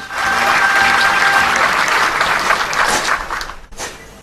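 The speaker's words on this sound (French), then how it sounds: "la démonstration du détachement nigérian, inspirée certainement de la rigueur britannique, avec des gestes justes et précis, a soulevé une salve d'applaudissements nourris" Sustained, hearty applause from spectators in the presidential stands after a Nigerian military detachment's precise parade drill demonstration, a dense loud wash of clapping that swells and then tapers off near the end.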